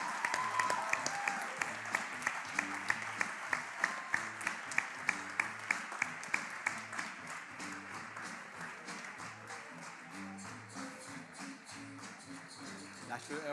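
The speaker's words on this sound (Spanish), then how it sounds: "Vamos a darle un aplauso." An audience applauds at a talk, with one clear rhythmic clapper beating out regular sharp claps over a softer crowd. Voices murmur underneath at a modest level.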